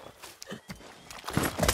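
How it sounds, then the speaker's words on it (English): Horse hooves beat in a quick, close clip-clop while riding in the video game Far Cry 6, a short burst that grows louder toward the end. "Let's go, horse."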